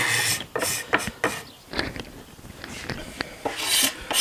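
A hand scraper works along the binding of a guitar neck in a series of close, dry rasping strokes, each short and uneven, with brief pauses between them and no talking.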